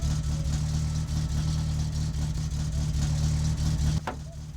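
A faulty car engine in the game My Summer Car runs steadily with a rough, droning hum and slight revving, loud and close, with a brief sharp knock near the end.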